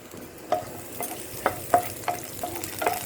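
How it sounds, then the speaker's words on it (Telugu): Onions sauté in oil in a pan for kadai paneer, a steady soft sizzle punctuated by about seven sharp ladle clinks and scrapes as they are stirred at a loose, uneven rhythm. "వేసేసి ఇప్పుడు ఈ ఉల్లిగడ్డ కొంచెం సాటే చేస్తాను."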